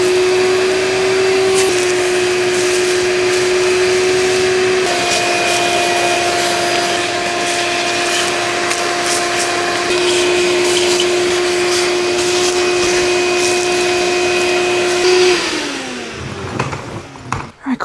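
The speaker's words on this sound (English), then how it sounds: "vacuum the crud off the top of this engine" A vacuum cleaner drones steadily and loudly with a constant whine, its pitch shifting slightly, cleaning crud off the top of an engine, then cuts off and winds down near the end.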